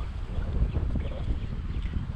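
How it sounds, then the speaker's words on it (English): Steady wind buffets the microphone out on the water while bass fishing, a dense low rumble with gusty texture, close and constant with no talk. "The wind's coming right at my face."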